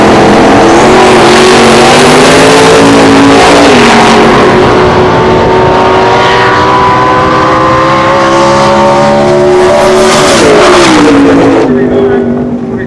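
A 1972 Vega and a 1984 Mustang roar down the strip in a drag race at a 2004 race weekend, their engines loud and close, revving and rising in pitch with a brief tire squeal and no pause.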